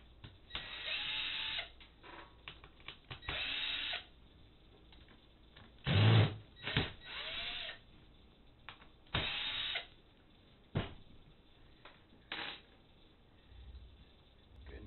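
A 2.5 mm driver bit backs screws out of a PCB while a ribbon is replaced, giving several short whirring bursts separated by pauses, close up and moderately loud, with no voices.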